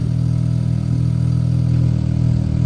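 A side-by-side's engine with its muffler opened up runs with a steady, loud, low rumble and faint clatter, holding an even idle-like drone throughout without clear rev peaks.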